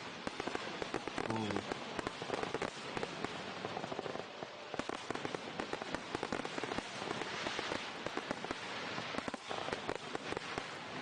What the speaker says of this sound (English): I like the fireworks.